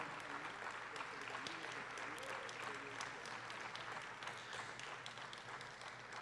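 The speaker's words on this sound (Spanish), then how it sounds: "Fuerte ese aplauso entonces para recibir esta premiación digna en esta noche." At a national arts, science and literature awards ceremony, a hall audience keeps up continuous applause that stays steady and somewhat distant, with some murmuring beneath the clapping.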